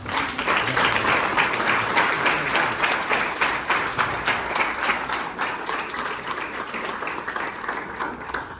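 Wedding guests applaud after a heartfelt speech, a sustained crowd of clapping hands, strong at first and easing slightly over several seconds.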